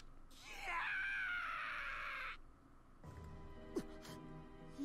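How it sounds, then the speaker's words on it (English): A loud, sustained scream echoes from a school classroom in the Digimon Survive video game, one long shriek lasting about two seconds, then quieter game ambience with a brief sharp sound. "What was that scream?"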